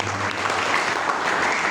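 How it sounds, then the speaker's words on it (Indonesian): Congregation clapping during a Sunday church service, a steady, fairly loud wash of many hands with a low hum underneath. "Tepuk tangan bagi kepada Tuhan."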